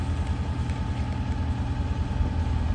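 A sailboat's engine runs at a steady idle-like rumble, low and continuous for a few seconds with no voices over it.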